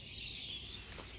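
A faint, steady chorus of high chirping birds fills a foggy village morning near Wazirpur, Barishal, Bangladesh, distant and continuous with no voices.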